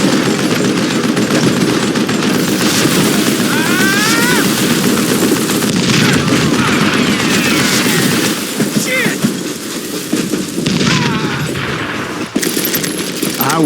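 Gunfire in the Western shooter Call of Juarez: Gunslinger, dense rapid shots and booming blasts filling the scene continuously and loudly, with a voice narrating over the battle.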